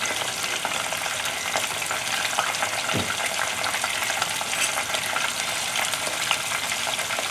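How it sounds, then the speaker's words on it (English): Shrimp frying in a pan for honey walnut shrimp, a constant loud sizzle and crackle of hot oil with a brief clink partway through, no talking. "So we're gonna let the shrimp fry a little bit."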